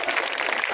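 Crowd applause welcoming a guest at a village gathering in Akhri, Varanasi, a brief burst of dense, steady clapping from many hands with no pause.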